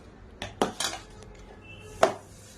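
Korameen fish and prawns being washed in a metal pot, heard as a few sharp, close clanks and clinks of metal and utensils in quick succession, followed by a single louder knock after a short pause.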